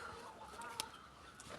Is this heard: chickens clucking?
yes